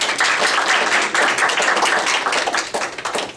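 Audience applause for a panel at a watershed management colloquium, a dense burst of clapping from a room full of people, loud and sustained, tapering off near the end.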